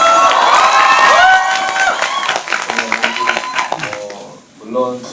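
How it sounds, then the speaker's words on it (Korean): An audience at a film talk event erupts into cheering and clapping. The noisy crowd swell is loud at first, then breaks into scattered claps and shouts before fading. "박수 한번 주세요"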